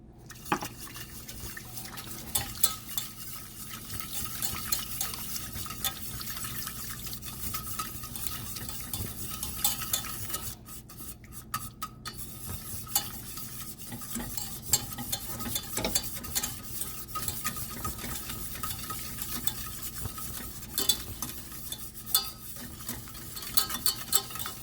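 A white sauce with milk is stirred in a pan to work out lumps, giving continuous soft scraping and sloshing with light liquid drips, close and steady, with no one speaking.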